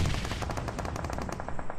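Rapid automatic gunfire in a multiplayer shooter video game during a tournament match, a dense, loud, evenly spaced burst of shots that lasts nearly two seconds.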